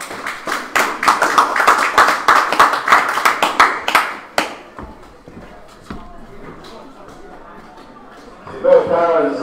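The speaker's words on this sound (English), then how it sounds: "big round of applause to them" A small group claps for the match officials after a rugby shield final, the distinct, fairly close claps falling in an uneven rhythm for about four seconds before stopping, then quieter voices and shuffling noise follow.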